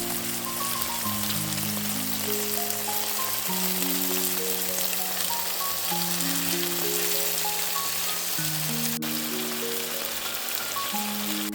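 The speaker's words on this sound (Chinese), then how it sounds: "煎金黄了就可以翻面煎另外一面了。" Chicken legs pan-frying skin-side down in hot oil over medium heat, giving a steady, continuous sizzle that runs the whole time beneath a background melody.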